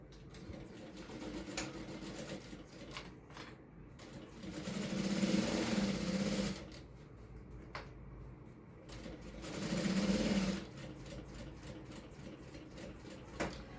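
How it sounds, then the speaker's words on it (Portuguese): A domestic sewing machine stitches fabric for a zippered pouch, running in two louder, faster bursts between slower, quieter stretches of whirring. "Se você estiver costurando numa máquina doméstica, principalmente se for antiga, vem devagar aqui"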